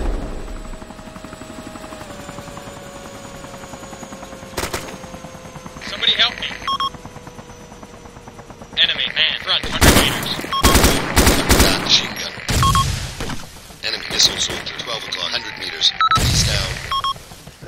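Helicopter shot down amid gunfire in the video game ArmA 2 during a village assault: a steady rotor drone gives way to loud bursts of machine-gun fire and sharp impacts. A voice talks intermittently over the battle.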